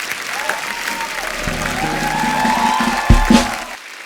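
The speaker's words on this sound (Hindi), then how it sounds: "एक बार जोरदार तालियां हो जाए।" Studio audience at a Hindi comedy talk show bursts into applause, steady clapping building across the room with a crowd swell and a few louder claps near the end before it tapers off.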